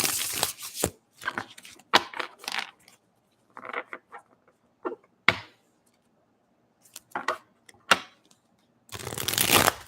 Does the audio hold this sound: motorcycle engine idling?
no